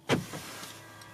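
The power-folding side mirrors of a 2020 Mercedes-Benz GLC 300 4Matic swing out on unlock. A brief motor whir and soft thunk sound close by, followed by a faint hum.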